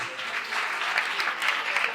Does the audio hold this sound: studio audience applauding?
yes